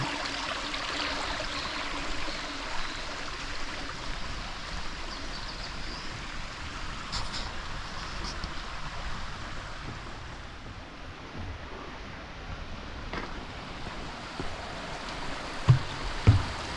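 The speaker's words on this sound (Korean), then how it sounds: "산에 오면 이 물소리가 너무 좋더라고" Steady broadband rush of a mountain stream at Worak Mountain, Korea, continuous and fairly close, with a couple of brief knocks near the end.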